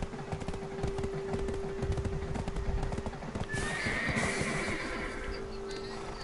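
A horse gallops with rapid clip-clop hoofbeats and lets out a neigh in a video game, loud and close throughout.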